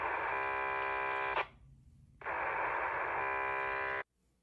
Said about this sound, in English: we're taking a raw radio transmission that sounds like this